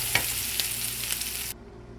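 Vegetables stir-fried in a pan with chicken and shrimp for miki bihon noodles, a loud close sizzle with a few scraping stirs, then the sizzling drops away abruptly near the end.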